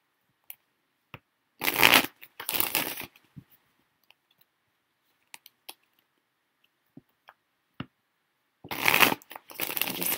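A deck of tarot cards shuffled close up in two separate bursts of quick riffling and rustling, with soft scattered clicks between them and no talk.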